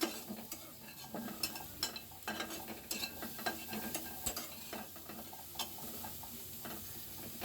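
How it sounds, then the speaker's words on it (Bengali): Chopped onion and a large garlic clove frying in a pan, a soft steady sizzle with scattered scrapes and clicks of a spoon stirring, fairly quiet and close. "এই জন্য পেঁয়াজ আর রসুনটা ভালো করে আমার ভাজতে হবে।"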